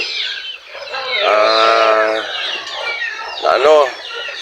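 Rhode Island breed chickens on a farm give drawn-out clucking and squawking calls, loud and close, rising and falling over a few seconds alongside someone speaking.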